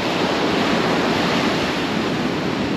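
Ocean waves break at Kitty Hawk beach on the Outer Banks, a loud, continuous roar of churning surf close to the microphone, with wind noise mixed in and no voices.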